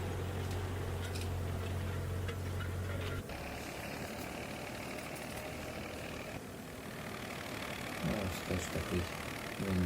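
A vintage American mini tractor's small engine runs steadily at idle, a continuous low, rough rumble with slight shifts in tone and no pauses.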